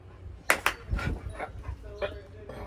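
Dogs whimper and yip softly in short bursts on a porch, with people chatting nearby.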